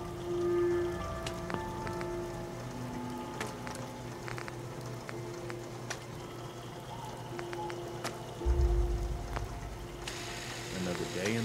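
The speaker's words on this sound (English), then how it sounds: "Hope this rain lets up soon." Rain falls steadily in the Commonwealth wasteland of Fallout 4, a continuous wash of patter under game ambience with occasional clicks and a low rumble near the end.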